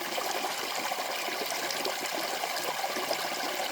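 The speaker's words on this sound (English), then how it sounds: "the flowing water here makes this the absolute perfect spot" Water flows steadily in a stream at a campsite, a continuous broad rushing and trickling that stays close and even throughout, with no voices.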